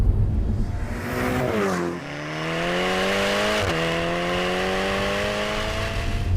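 A Ferrari Portofino V8, a 2018 model, drones at low revs while driving, its steady engine note dipping and then settling into an even hum with a brief gear-change blip, heard up close without talk.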